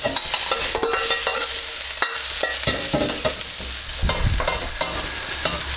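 Pak choy stir-frying with onion and chicken in a hot wok for a Chinese takeaway dish, a steady loud sizzle broken by repeated scraping and tossing clatters, close up with no voices.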